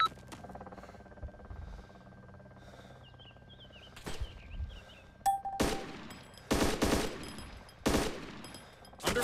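Video game gunfire in a tense firefight: sharp, loud bursts of automatic shots, first isolated cracks and then several heavy volleys in the second half, with quiet gaps and faint background sounds between them.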